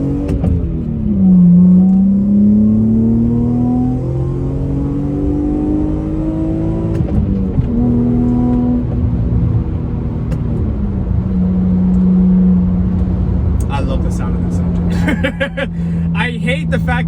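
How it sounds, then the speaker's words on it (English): A 1997 Mazda MX-6 V6 engine rumbles and rises in pitch through several gear changes as it accelerates, sounding close and loud, like from inside the cabin. "We're gonna just do a little small acceleration."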